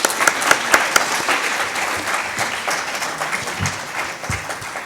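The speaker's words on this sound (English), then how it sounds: "Can we have a huge round of applause for our speakers?" An audience at a hospitality industry HR summit applauds its speakers, with dense, steady clapping from a sizeable crowd. A few sharp, louder claps stand out near the start before the sound settles into an even, sustained roar.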